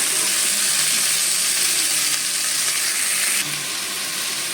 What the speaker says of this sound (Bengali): এবার আমি এটাকে মিক্স করবো তেলের মধ্যে কিছুক্ষণ ভাজি করে নেব